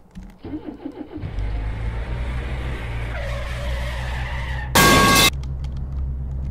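A car starting and driving in a video game, with a low engine hum that settles into a steady drone, a rising whine partway through and a short, loud burst of noise near the end.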